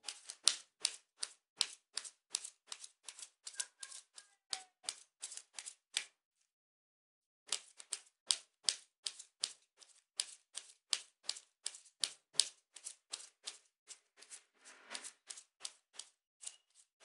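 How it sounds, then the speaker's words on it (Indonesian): Tarot cards shuffled by hand for a reading, crisp rhythmic card slaps repeating steadily at close range, with a brief pause midway before the shuffling resumes, no talking. "kartunya dikocok dulu sebelum kita mulai"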